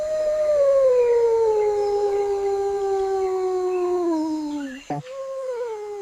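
Howler monkeys calling in a Colombian jungle: one long, loud, steady howl that slowly falls in pitch for about five seconds, cut short by a break, then a fainter howl resumes.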